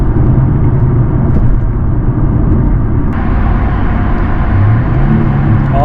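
A Porsche engine in sport mode hums loudly and steadily from inside the cabin, a continuous low rumble with slight rises in pitch toward the end.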